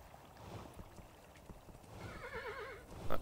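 A horse in a video game whinnies with a wavering, rising-and-falling call over steady hoofbeats clip-clopping in the background.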